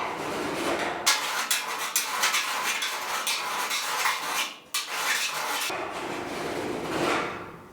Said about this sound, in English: So let me keep filing a little bit.